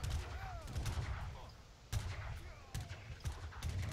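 Cannon and musket fire in an Age of Empires III battle, repeated sharp booms and crackling shots in irregular bursts, moderately faint, with faint game ambience between volleys.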